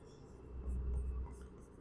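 Quiet pen strokes scratch across paper during an accounting lesson, a brief soft burst of writing over a low background rumble.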